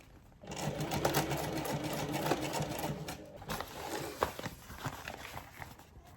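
A sewing machine stitches a cable bag in a workshop, running steadily and fairly close with a rapid mechanical whir and brief stops and restarts along the seam.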